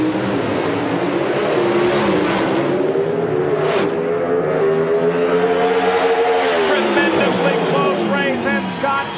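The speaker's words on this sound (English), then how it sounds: "the RPMs begin to come up and they move into the staging beams" Oldsmobile Pro Stock drag racing cars rev loudly at the staging beams, their engine notes rising and holding with a rough, sustained roar and shifting pitch amid a crowd-filled drag strip atmosphere.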